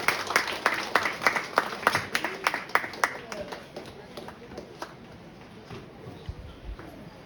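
A standing congregation at a prayer center claps to welcome a woman preacher: strong, rhythmic hand claps at first, gradually thinning and fading into softer scattered clapping and room murmur.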